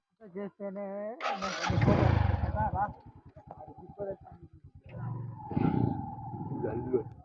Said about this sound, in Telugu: బైక్స్ లో అయితే వెళ్తున్నాం